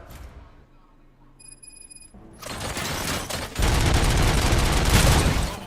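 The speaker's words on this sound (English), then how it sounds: "Gunshots? What's going on?" Gunfire in the RoboCop Rogue City video game: after a quiet stretch with a faint high tone, loud bursts of rapid automatic shots erupt and keep going, dense and close, growing heavier toward the end.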